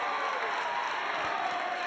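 A high school girls' basketball crowd in a Minnesota gym cheers loudly after a made three-pointer, a steady roar of voices and applause throughout.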